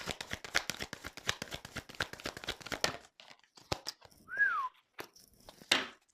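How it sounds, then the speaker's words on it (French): A person gives one short, descending whistled note after several seconds of rustling, crinkling and shuffling tarot cards; the whistle is brief and fairly close, with no speech. "Je siffle et tout, quoi."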